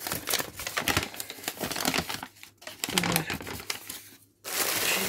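A paper instruction sheet crinkles and rustles nearby as it is unfolded, with crisp crackling bursts and a couple of brief pauses.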